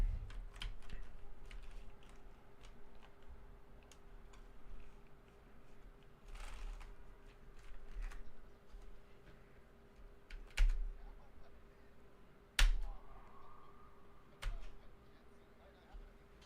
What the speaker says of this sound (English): It's the keyboard.